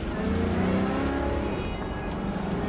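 A 2005 Maserati Quattroporte Sport GT's V8 engine revs steadily from inside the car, a loud, smooth continuous drone that holds for a few seconds without talk.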